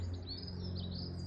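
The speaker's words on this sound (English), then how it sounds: "Goldfinches singing." Goldfinches chirping and singing in a quick, continuous high twitter over a steady low hum, fairly faint and outdoors on Steephill Down, Ventnor.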